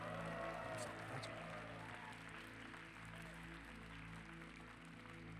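A church congregation at a Thanksgiving Sunday service claps and cheers together, a steady wash of applause sustained throughout over a low droning hum.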